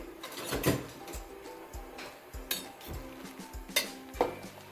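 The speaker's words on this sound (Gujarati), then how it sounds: "તો એને આપણે સરસ રીતે હલાવતા રહીશું ચારાથી." A spatula scrapes and taps against a pan while raw mango pieces for candy are stirred, giving a faint, irregular run of metallic clinks and scrapes with no voices.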